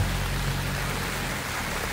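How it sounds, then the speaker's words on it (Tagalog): Raindrops fall on a rainy morning at a campsite in Tanay, Rizal, a steady close hiss of rain with no voices. "Dito yung mga raindrops, oh."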